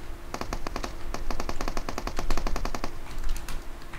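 Rapid automatic gunfire in the PUBG Mobile game aimed at a car's tyres, a fast loud burst of evenly spaced shots lasting nearly three seconds, then a few scattered follow-up shots.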